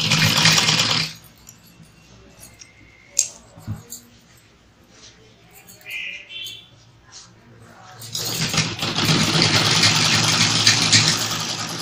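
A sewing machine stitching a blouse at home, whirring in a short burst at the start, then falling silent apart from a few clicks and brief handling sounds, before running again steadily and louder toward the end.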